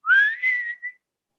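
A person whistles a smooth rising tone in imitation of capuchin monkey whistles, then holds it steady and adds a short final note, clear and close with no other sound.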